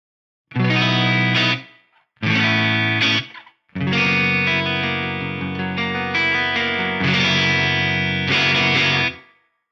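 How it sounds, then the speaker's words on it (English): An electric guitar runs through an Eventide H9 reverb pedal, with the tone control set darker and the decay raised. Sustained chords ring out in three phrases, with short gaps between them and long, shimmering tails. "So the color control is going to control how dark or bright the reverb sounds."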